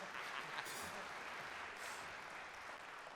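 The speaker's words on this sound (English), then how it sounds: "clap for them" An audience claps for jazz musicians at a monthly program, a steady patter of many hands held at a fairly soft, distant level throughout.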